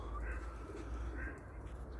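Low, soft pigeon cooing at a loft in Elbląg, a throaty murmur rising and falling close by, with faint rustling and a lighter call overhead.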